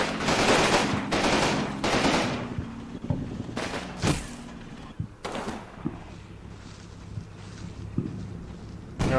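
Machine gun fire from an emplaced gun nest in the WWII game Combat Mission: loud, rapid bursts in the first few seconds, then scattered single shots and distant thumps, with long stretches of quieter ambience.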